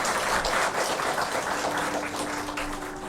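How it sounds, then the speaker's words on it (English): Applause from a spiritual gathering audience at Shanti Sarovar, Hyderabad, a steady dense patter of clapping that holds throughout and eases slightly toward the end, with a faint tone underneath. "A big round of applause again"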